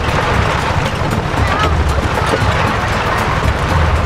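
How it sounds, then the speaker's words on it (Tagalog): Steady, heavy wind roaring and buffeting the microphone throughout on a beach in Pangasinan, Philippines, with a low rumbling undertone and no clear voices. "Mahangin pa naman."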